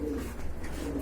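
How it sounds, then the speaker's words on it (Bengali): Rajgolla pigeons, a running pair, cooing at close range in a market, a low throaty coo at the start and another at the end over a steady background murmur. "এটা হচ্ছে লাল গোল্লার একটা রানিং পেয়ার, খুবই সুন্দর রাজগোল্লা কবুতর"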